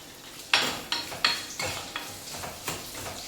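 Onions and garlic sautéing with salt in a pan, a spatula scraping and stirring in about half a dozen distinct strokes over a soft, steady sizzle, close by with no voices.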